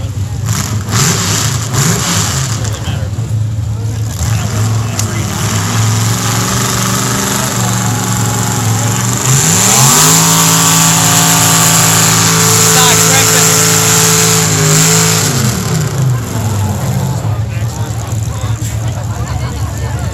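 A pulling truck's engine roars and revs hard at a truck pull event at Mercer Raceway Park, with the pitch climbing and holding high as the rear wheels spin, loud throughout, with announcers talking over it.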